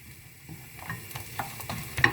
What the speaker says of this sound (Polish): skwierczy, bo się przesmaża cebula